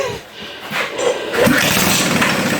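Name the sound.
small kart engine starting up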